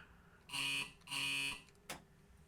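Two long, loud electronic warning buzzes in a Class 801 train cab in Train Simulator Classic, followed by a short click.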